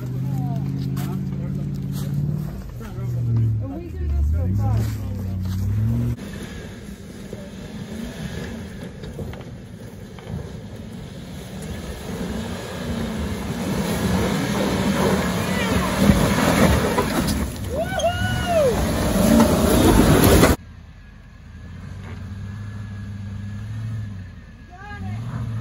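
An off-road vehicle with no muffler revving on a rough trail among Land Rovers and Jeeps, its engine rising into a loud raw roar before dropping off, with people talking throughout.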